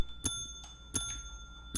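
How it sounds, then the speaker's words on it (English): A bell in the Minecraft video game is clicked by an automated activator. It rings three times at steady, roughly evenly spaced intervals, each a sharp, bright ding that fades quickly, clear and alone with no talking. "It will be clicking the shame bell until its RF runs out."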